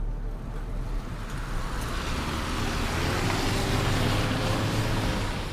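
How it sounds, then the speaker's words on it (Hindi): A car moves along an expressway in light traffic, giving a steady, fairly faint rumble of road and tyre noise that builds gently. No one speaks. "एक्सप्रेस वे पर कम ट्रैफिक होने की वजह से कार्तिकी जल्दी अपनी फैसिलिटी में पहुंच गई"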